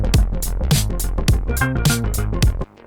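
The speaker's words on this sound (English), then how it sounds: "So what I've done now is I've brought a drum sample loop in there" A drum sample loop plays back in Ableton Live, with punchy kicks and crisp snare and hi-hat hits repeating in a steady groove at close, clean volume before cutting off abruptly.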